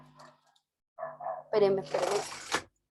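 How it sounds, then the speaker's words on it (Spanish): Dogs bark in a quick cluster of loud, close yaps, with faint murmuring before them. "se pusieron pesaditos estos perros"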